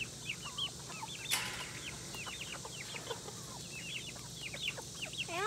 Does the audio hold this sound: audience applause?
no